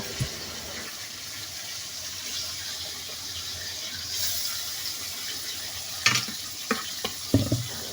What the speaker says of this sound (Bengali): আমি এখন মাছগুলো দিয়ে মাছগুলো কষিয়ে নেব